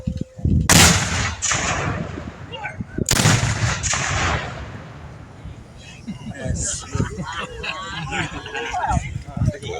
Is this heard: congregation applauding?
no